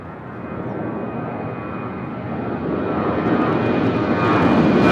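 Jet airliner from LAX arriving at Nashville International Airport, engine roar with a faint whine building steadily louder as it approaches close by, no voices.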